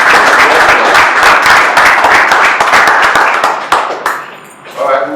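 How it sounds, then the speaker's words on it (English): Loud audience applause at an award and conferment ceremony, dense clapping from many hands that thins and fades toward the end. "Please give a round of applause."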